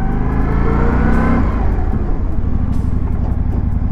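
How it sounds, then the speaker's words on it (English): Indian Sport Scout Bobber motorcycle accelerating up to about 30 mph, its engine rising in a loud, close, continuous revving pull that then settles into a steady, rougher drone. "ramp it up to 30 miles per hour and then jam on the brakes"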